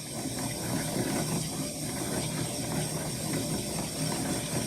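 Yarn winder spinning yarn into a tightly wound spool: a continuous mechanical whir with a fast, regular ratcheting tick, steady and moderately quiet with no talking.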